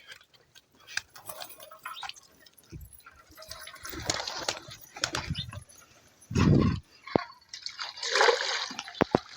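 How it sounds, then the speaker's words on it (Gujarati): Water poured from a bucket into a pigeons' water bowl, a sloshing splash in short bursts among scattered taps and clicks, close by. "જો પાણી નાખી દીધું છે."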